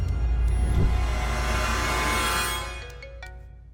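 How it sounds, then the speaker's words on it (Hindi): A mobile phone rings loudly with a sustained tonal ringtone and a low rumbling undertone, fading out over the last second and giving way to near silence. "केपी का फोन है, उठाओ ना।"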